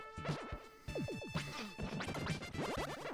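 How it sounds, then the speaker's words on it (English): Retro SNES game audio from Soul Blazer: a short, harsh hurt sound effect borrowed from ActRaiser repeats several times in quick bursts over faint chiptune music, fairly quiet overall. "that's the hurt sound effect from ActRaiser"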